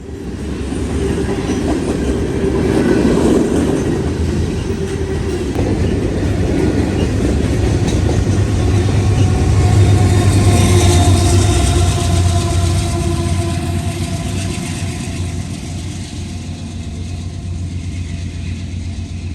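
A Norfolk Southern freight led by NS-8102, a locomotive in Pennsylvania heritage paint, rumbles past near CP-162 in London, Ohio, on a cold morning, a loud sustained roll of engine and wheels swelling in the middle and easing toward the end.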